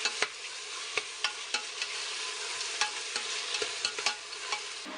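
Mutton sautés in a hot pan for Ramadan nonbu kanji, with a steady soft sizzle and a regular rhythm of sharp spoon scrapes and clicks against the pan, close and fairly quiet.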